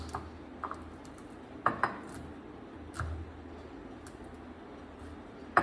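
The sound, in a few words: crushing cashew nuts with a grinding stone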